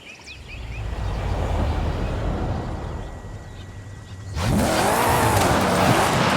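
Rear-wheel-drive car with a 6.2-litre 750 bhp V8 in Forza Horizon 5 drives with a steady, loud engine drone, then surges louder midway as the revs climb and rise and fall.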